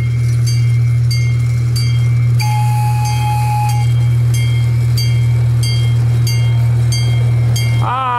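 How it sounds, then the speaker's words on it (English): A train rumbles past with a loud steady drone, rhythmic clicking of wheels over rail joints, and a brief squeal near the end. "Trains are coming."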